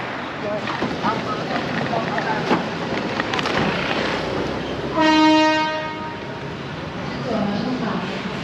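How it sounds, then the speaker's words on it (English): A train rumbles along, then its horn sounds one loud, sustained blast midway; a voice speaks over the rolling noise. "I made it. I'm on the train."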